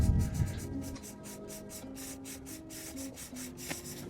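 A clean microfiber towel soaked with throttle body cleaner wipes carbon buildup off the throttle body of a 5th gen Toyota 4Runner, giving a series of quick, close rubbing strokes in a rapid, regular rhythm, quiet and without talk.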